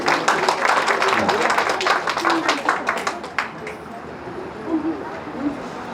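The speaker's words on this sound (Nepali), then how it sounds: "ताली बजाइदिनु।" An audience claps for a prize winner at an anniversary festival at a spiritual service ashram, a burst of crowd applause that fades out after a few seconds, with voices underneath.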